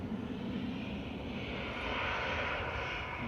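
A Kuwaiti airliner arriving at Manchester Airport, its engines a loud, steady broadband roar that holds throughout and swells slightly toward the end, with no voices over it.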